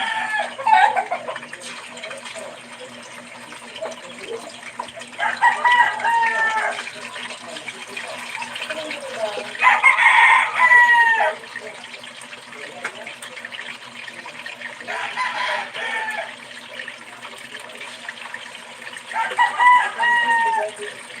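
Chickens cluck nearby while a rooster crows several times at intervals, with a faint steady hum underneath.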